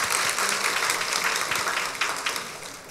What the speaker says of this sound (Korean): 하나님께 영광의 박수를 드리고